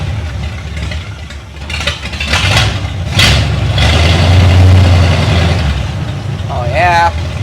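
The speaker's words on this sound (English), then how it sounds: "Let's try our throttle pedal." The engine of a 1932 Ford Roadster rises from idle as the throttle pedal is worked. A deep rumble swells into a loud, sustained rev, then settles back down, close by, with brief voices heard around it.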